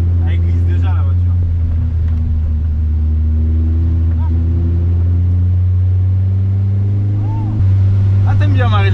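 A car drives hard on a wet, foggy Nürburgring track, its engine droning loud and steady close by, with a dip and a fresh surge of revs near the end.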